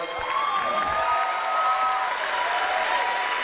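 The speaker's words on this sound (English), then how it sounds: "Let's give them a round of applause." Audience applause fills the arena after a women's fight at the RCF5 event, a steady, dense wash of clapping and some cheering that holds evenly throughout.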